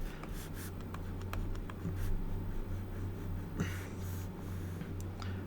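A pen scratches steadily across paper as an electric circuit diagram is drawn by hand, a close, continuous scratchy sound over a low steady hum, with no speech.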